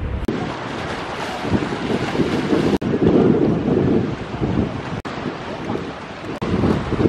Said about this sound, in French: Il y a un vent terrible, hein